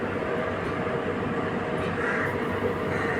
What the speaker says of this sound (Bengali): আমাদের ট্রেন ছেড়ে দিল বোলপুর শান্তিনিকেতন থেকে